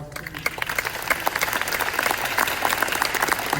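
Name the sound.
applause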